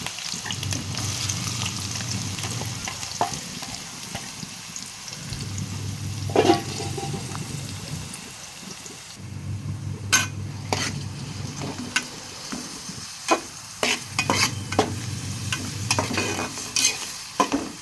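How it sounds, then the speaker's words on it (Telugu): Onion pieces and green chillies fry in hot oil in a pan for a Telugu fish stew, a steady close sizzle broken by repeated scraping stirs and spoon clinks against the pan. "ఉల్లిపాయ ముక్కలేమో ఎర్రగా అవ్వాలండి గోల్డ్ కలర్లో రావాలి"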